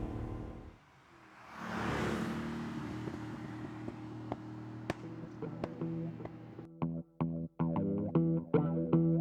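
A Lamborghini Urraco engine burbles at low revs while driving, a steady throaty rumble heard from inside the car, broken by sharp clicks and knocks toward the end.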